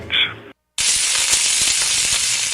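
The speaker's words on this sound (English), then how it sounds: "That's the sound of your skin cooking." A brief tone cuts to silence, then a loud, steady sizzling hiss fills the rest, like something frying on a hot surface, with faint crackles.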